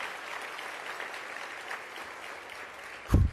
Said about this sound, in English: can we get a humongous round of applause for Densho and this amazing legacy of 20 years?